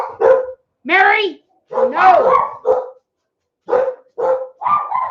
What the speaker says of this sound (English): These dogs bark all the time.